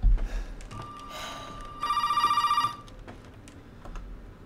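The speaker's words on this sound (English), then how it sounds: "Phone call." A telephone rings in Resident Evil 7, with two electronic ring bursts, the second longer and louder, heard close and clear against quiet background noise.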